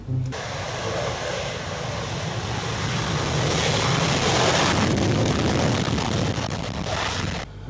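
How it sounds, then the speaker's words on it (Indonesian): A grey fighter jet's engine roars as a dense, steady, broadband rush that holds loud throughout with a slight swell in the middle. "Di sini ada pesawat tempur"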